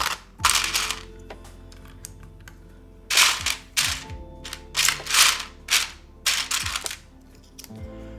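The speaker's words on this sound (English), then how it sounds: "let me finish putting the switches in the board here. Or the keycaps rather." Keycaps being pressed onto switches on a mechanical keyboard during a build, heard as several bursts of crisp plastic clacks and snaps in irregular clusters, close and fairly loud, separated by quiet pauses.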